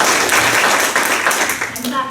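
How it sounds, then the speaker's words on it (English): An audience at a Morton Grove Chamber of Commerce legislative breakfast claps, producing a dense, steady wash of applause in a room that fades slightly toward the end. "I'm clapping for all of you for making it this far."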